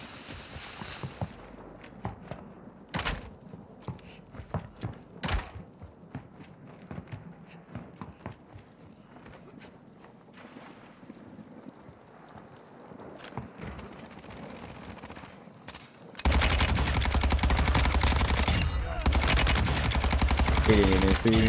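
Fennec 45 submachine gun fire in Warzone 2, scattered sharp bursts early on, then a sustained loud rapid-fire stream in the final seconds, with game ambience between shots.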